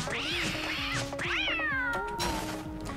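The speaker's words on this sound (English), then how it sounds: "Oh, it's a sleeping kitty." A cat in the video game Don't Starve meows in a series of rising, wavering calls over steady background game music, close and clear, with no talk.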